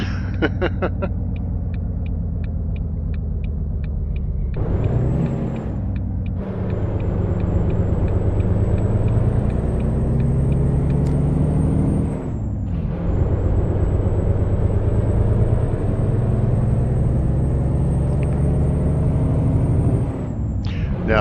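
A car rolls along a rough farm road between gates, with a steady loud low rumble of tyres and engine that rises and dips as it shifts speed, and no voices over it.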